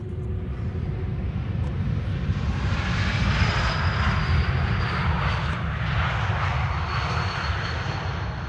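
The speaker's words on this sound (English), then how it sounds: "E2 Embraer 195 arriving from Billund up next." A KLM Embraer E2 195 airliner arrives at Amsterdam Schiphol from Billund, its engines building into a close, loud, steady roar with a high whine on top, with no talk.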